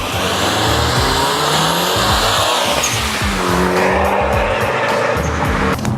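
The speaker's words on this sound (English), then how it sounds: "That EVO sure does sound nice" A 500-horsepower Mitsubishi EVO with a faulty transmission accelerates hard in city traffic, its engine loud and sustained while the tires squeal and skid throughout, close and continuous.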